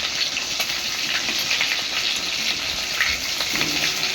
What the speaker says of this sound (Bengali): তো দেখো এবার আমার চিকেনটা ম্যারিনেট করা ছিল, এবার আমি তেলে ছাড়ে দেব।